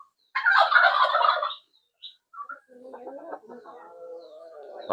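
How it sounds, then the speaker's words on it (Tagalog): Poultry calls in a close burst: a loud, harsh squawking cluck, then softer scattered clucks and a drawn-out warbling call, with no talking. "So, tingnan naman natin ating mga alagang manok."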